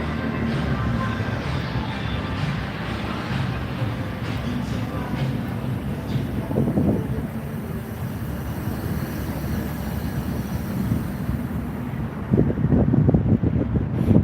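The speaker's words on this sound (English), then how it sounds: "a 15-mile-an-hour wind or so, 15, 20 miles an hour maybe, that we're getting right now" Strong Las Vegas wind buffets the microphone in a continuous low roar, with gusty swells and a louder burst of rumbling near the end, and no other clear sound on top.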